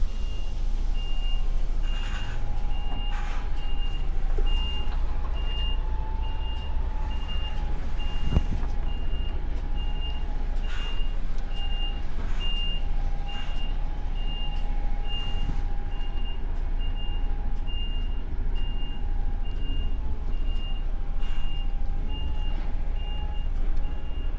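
A truck reverses with a steady engine rumble and a regular, clear reversing beep repeating throughout, close and loud, with no talk.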